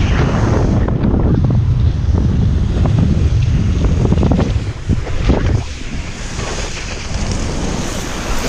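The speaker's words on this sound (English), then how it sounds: "The wind is coming, head on the other way." Headwind rushing past while riding at a wake park in Phuket, Thailand, a loud continuous roar of wind buffeting the microphone with splashy water noise underneath, easing slightly toward the end.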